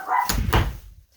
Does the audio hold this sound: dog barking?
yes